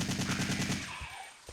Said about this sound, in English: So the assault rifle is probably the best gun you can use against a hunter.